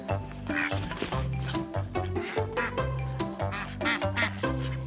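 Farm ducks kept for eggs quack repeatedly in steady, close, loud bursts with no talking.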